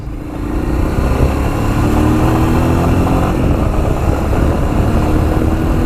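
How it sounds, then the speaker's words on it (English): The engine of a Royal Enfield Himalayan motorcycle on a ride, a loud, close, steady low-pitched thrum holding an even pace, with rushing wind noise layered over the engine note. "It does sound great, this new engine."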